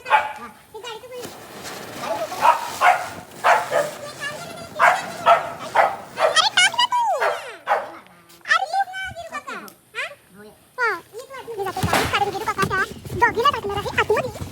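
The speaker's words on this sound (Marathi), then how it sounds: "तो डॉगी बघा नुसतं भुंकत होता" A dog barks repeatedly near a car in a village during a Diwali visit, its sharp yelps and whimpers mixed with children's chatter throughout.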